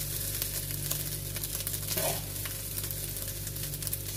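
Garlic fried rice (sinangag) with eggs, hotdog and vegetables sizzles steadily in a pan, a dense continuous crackle with a low hum beneath and a brief stir or scrape around the middle.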